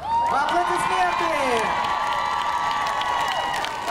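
Applause and cheering fill a dance award ceremony hall, a dense wash of clapping with whoops and shouting voices above it, loud and continuous throughout.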